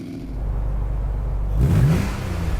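A car engine in Gran Turismo 7 on PSVR2, heard from the cabin, hums steadily and then swells into a louder rev partway through. The sound is close and continuous, with no talk over it.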